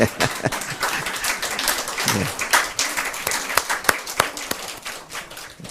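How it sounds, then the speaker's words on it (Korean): Congregation in a church service applauding to welcome two visiting daughters: a steady wash of many hands clapping with sharp individual claps standing out, lasting several seconds with no speech over it. "우리가 박수로 한번 크게 환영할게."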